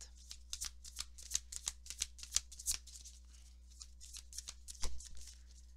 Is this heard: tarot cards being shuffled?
yes